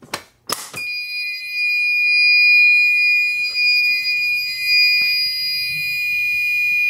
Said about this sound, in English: So I'm going to unlock this and pull the alarm.